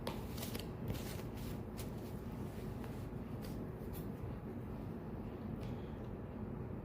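Tarot cards shuffled steadily by hand, a continuous soft papery riffling that runs throughout at low level with no talk.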